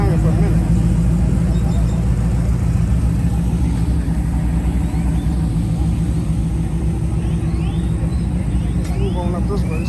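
A car driving slowly around a parking lot at a Midwest City, Oklahoma cars-and-coffee show: a steady, loud engine and road rumble continues throughout, and people talk over it.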